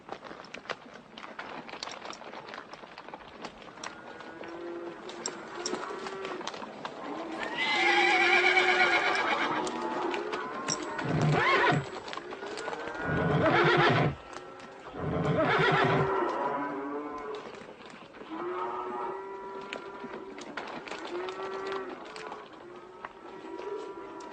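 Horses whinny and neigh repeatedly amid running hooves in a 1990 western film, several loud calls rising over the clatter of the herd and stock being driven, with no talk.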